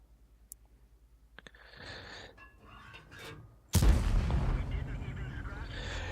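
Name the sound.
tank cannon fire in World of Tanks video game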